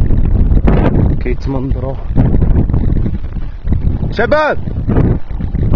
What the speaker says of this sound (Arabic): كتسمعوا الريح